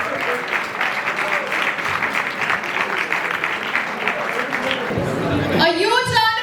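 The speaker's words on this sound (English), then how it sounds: "A huge round of applause" Audience applause for the winners on stage at an international startup competition, a sustained, dense patter of many hands, with a voice speaking over it near the end.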